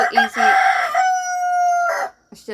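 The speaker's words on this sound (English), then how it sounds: "I've got a rooster right here" A rooster lets out one loud, drawn-out crow right up close, ending with a brief cluck.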